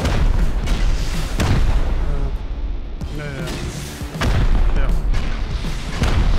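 Rocket explosions in the survival game Rust boom repeatedly in a fast barrage, loud heavy blasts landing close together with a brief lull midway, while voices talk over them.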